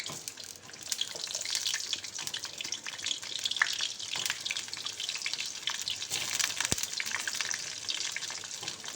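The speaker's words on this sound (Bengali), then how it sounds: "এরপর আমি এর মধ্যে আলুগুলো ভেজে নেব।" Potatoes frying in hot mustard oil in a wok, a bright, continuous close-up sizzle with crackling pops and occasional stirring, no talking.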